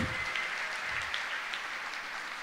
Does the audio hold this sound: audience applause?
yes